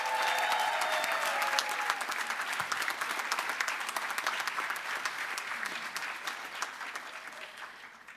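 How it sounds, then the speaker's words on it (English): Sustained applause from a large audience at a University of West London graduation ceremony, loud and even at first, then gradually fading toward the end. "Let's give all the graduates so far another very big round of applause."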